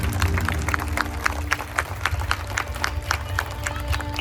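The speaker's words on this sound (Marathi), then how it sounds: "जरा जोरदार जोरदार टाळ्या" A crowd at a Bhim Jayanti gathering in Kamothe claps in a fast, regular rhythm, loud and continuous under a busy background of voices.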